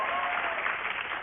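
Studio audience applause on a daytime talk show, a dense, steady burst of clapping filling the room for a brief moment.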